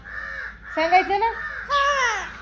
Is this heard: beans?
no